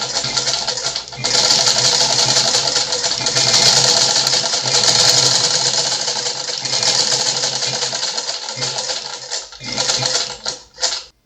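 A black Vigorelli domestic sewing machine runs in a loud, fast, steady mechanical whir with rapid needle clatter, close up, slowing and stopping in short bursts near the end.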